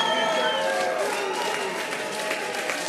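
A crowd of partisan activists waving flags outside a polling office in Corsica cheers and applauds Jean-Christophe Angelini, a dense, sustained roar of clapping and shouting voices.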